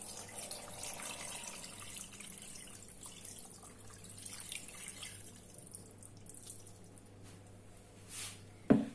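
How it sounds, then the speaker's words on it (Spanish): Water pours from a tap into a pot holding tripe for callos a la cordobesa, a steady soft splashing hiss that fades before a sharp clunk at the end. "Le vamos a poner agua hasta cubrirlo un poquito."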